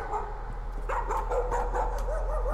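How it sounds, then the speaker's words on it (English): Several dogs bark and yip in the horror game Layers of Fear, a steady run of sharp barks from roughly mid-distance with a few whimpering yips mixed in, loud over a low background hum. "Shut up, dogs!"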